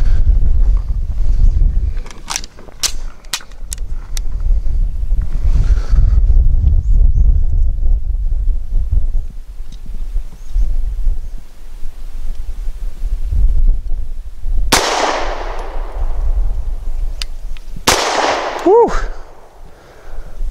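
A Grand Power P1D pistol firing Norma 108-grain monolithic hollow points: faint handling clicks and wind noise lead up to two loud, sharp reports a few seconds apart, each trailing off in a brief ringing decay.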